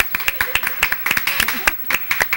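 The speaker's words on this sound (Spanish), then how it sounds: "Un aplauso para ella." A handful of people in a TV interview studio clap for a guest, with sparse, distinct claps in an uneven rhythm close to the microphone.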